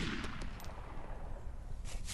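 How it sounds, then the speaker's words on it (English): Gunshots fired from a ranged position in the DayZ video game: a few sharp broadband cracks stand out over a dense, noisy low rumble, with a cluster near the start and another burst near the end. "since I've been firing shots in a really populated area"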